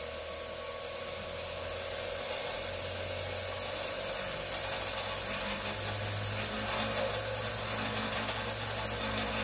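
A Rikon VS-161 variable-speed belt sander runs at higher speed, giving a steady, loud, broadband whirring hiss with a low motor hum underneath, continuous and close with no voices.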